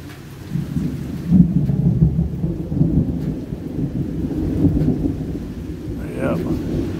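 Heavy rain falling outdoors in Georgia with rolling thunder, a dense steady downpour hiss under deep, sustained rumbles that swell and fade across the whole stretch.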